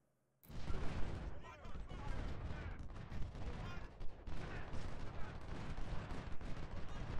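Massed infantry volleys from the Ultimate General: Civil War game at Malvern Hill, a dense, continuous crackle of rifle fire with sharp bursts rising and falling, loud and near after a silent start.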